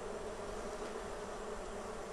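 Honey bees buzz steadily around a Flow Hive during a hive split outdoors, a continuous, faint swarm hum with no voices.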